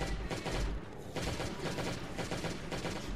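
An M16 rifle in a video game fires steady, dense automatic bursts that stay loud and close throughout, the shots packed together in a continuous rattling stream.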